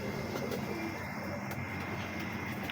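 Pigeons in a rooftop loft coo softly amid a steady outdoor hum, with faint bird sounds continuing throughout and no talking.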